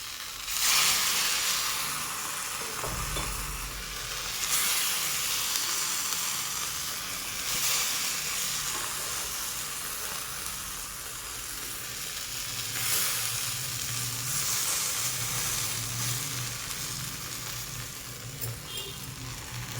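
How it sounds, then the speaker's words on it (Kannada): Raw plantain slices fry in oil over a low flame, giving a continuous, fairly loud hissing sizzle with gentle swells. Occasional soft knocks and scrapes of a utensil turning the slices come through. "ಫಸ್ಟ್ ಅದನ್ನು ಸಣ್ಣ ಫ್ಲೇಮಲ್ಲಿ ಇಟ್ಕೊಂಡು ಈ ಥರ ಫ್ರೈ ಮಾಡೋಣ."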